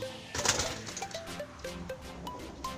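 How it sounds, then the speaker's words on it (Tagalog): Pet doves or pigeons coo softly and close by, repeating a few low calls over faint rustling, with no talking. "ayan po yung mga ibon"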